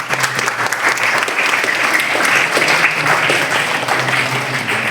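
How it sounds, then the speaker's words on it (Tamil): Audience at an anti-drug awareness program applauds steadily after a song, a dense, even wash of clapping from many hands that holds for the whole stretch without talk. "அனீஷ் அவர்களுக்கு கண்டிப்பான முறையில் நாம் கைத்தட்ட வேண்டும்"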